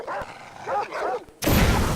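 Dogs in Far Cry 3 let out several short, close yelping barks, each a separate burst, before a loud rushing noise cuts in at the end.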